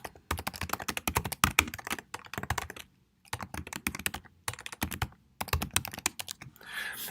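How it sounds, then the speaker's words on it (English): Typing an announcement on a computer keyboard: steady, close bursts of rapid key clicks in several runs separated by short pauses, with no talking. "then you go ahead and type it in."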